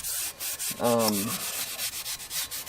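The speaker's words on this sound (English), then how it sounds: "One thing I do want to do is clean up this mating surface." Abrasive scrubbing on the metal mating surface of a Subaru EJ25 boxer engine during a rebuild: soft repeated rubbing strokes in a steady rhythm with one louder grinding pass, close by and without speech.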